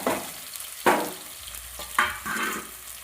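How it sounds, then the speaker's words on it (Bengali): Onion frying in hot oil for an egg roll filling is stirred with a spatula, giving about four distinct scraping, sizzling bursts over a low, quieter frying hiss, close to the pan. "এবার তেল গরম হয়ে গেছে, পেঁয়াজটা দিয়ে দিলাম। নাড়াচাড়া করে নিচ্ছি।"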